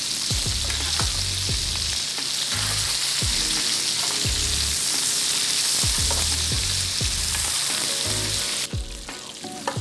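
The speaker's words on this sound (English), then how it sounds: "My rosemary and thyme that you saw me clip out of the garden. I'm just gonna baste it." A ribeye steak sizzles loudly in a pan as it is basted with rosemary, thyme and butter, with rhythmic spoon scrapes and spatters over a constant frying hiss.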